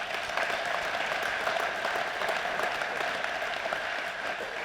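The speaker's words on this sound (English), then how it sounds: "he deserves a round of applause for that" A racer reunion crowd gives a round of applause in an event hall, with even, sustained clapping from many hands at moderate volume, continuing without pause and without speech over it.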